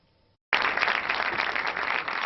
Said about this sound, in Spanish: Una ovación de varios minutos ha despedido al gran maestro del cine español, Luis García Berlanga.